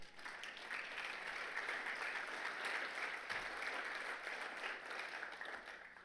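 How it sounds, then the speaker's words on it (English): Audience at a Red Cedar Watershed partners meeting applauding: a dense, even wash of clapping that holds steady for about six seconds at a modest level. "let's give Pat an applause"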